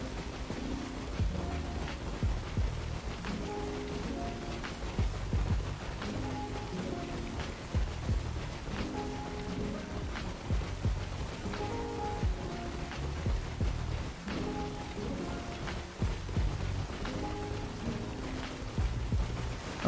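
Video-game rain pattering steadily, with soft tonal notes that sound like game music layered over it; the downpour stays even and continuous, and no one speaks.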